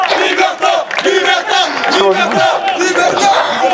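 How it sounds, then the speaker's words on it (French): Crowd in a French prison yard at a team competition between inmates, guards and neighbourhood residents, loudly cheering and shouting in chorus, voices rising and falling continuously with little distinct clapping. "Bravo, on applaudit."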